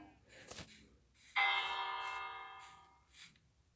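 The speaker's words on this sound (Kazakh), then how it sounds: "Бір қоңырау соғылды" A bell rings once in the Minecraft video game, a bright metallic strike with a long shimmering tail that fades over about two seconds, following softer sounds before it.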